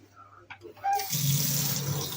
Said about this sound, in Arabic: لما نفتح المية السخنة نجرب كده نفتح